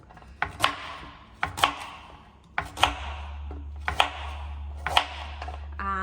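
A knife chops parsnips on a cutting board in a home kitchen, about six distinct close thuds in an irregular rhythm with short pauses between cuts.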